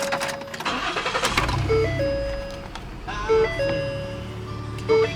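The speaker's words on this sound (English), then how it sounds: "let's go ahead and go inside of the car and fire her up for you guys" A 2018 Ford Taurus Police Interceptor with a 3.7-liter AWD engine cranks and catches, a brief starter whir giving way to a steady idle, with electronic chimes beeping in short repeated tones inside the cabin.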